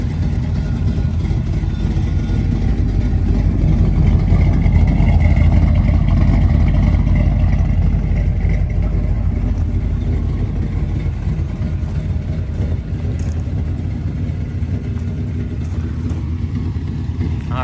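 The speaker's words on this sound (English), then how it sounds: "This is my 1986 C-10, and oh boy, is it canned." A cammed 1986 Chevy C-10 pickup with a 350 small-block V8 and headers idling, a steady deep rumble that is loud and close and continues on its own for the whole stretch.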